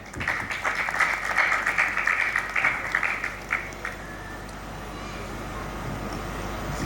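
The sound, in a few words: audience applause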